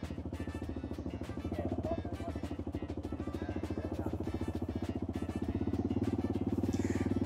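A motorcycle engine running at light throttle, a rapid, even chugging pulse that swells slightly toward the end, fairly close and steady, with no talking.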